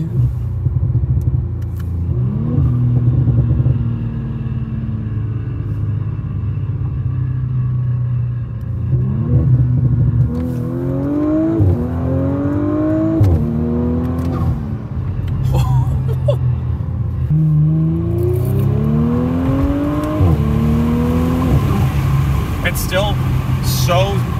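An Audi S5 (B9) with a Stage 2 tune revs up repeatedly, rising in pitch and dropping as gears shift, with people talking excitedly over the constant road rumble.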